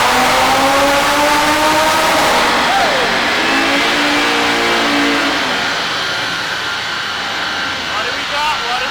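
A stock-turbo Audi RS3 running E85 revs hard on a Dynojet dyno, a loud sustained engine note climbing in pitch through the gears, with several rising sweeps and a steady roar throughout.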